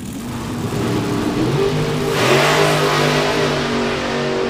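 Drag racing cars launching and accelerating hard down the strip, a loud, sustained engine roar that surges and grows brighter partway through, with no talk over it.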